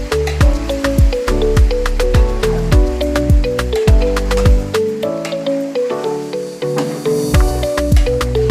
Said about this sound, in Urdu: چکن کو فرائی کریں گے.